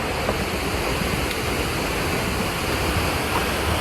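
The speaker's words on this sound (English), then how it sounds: "Finally, we are at the first waterfall." A 65-meter-high waterfall roars in a loud, continuous, broadband rush, heard close and unbroken throughout.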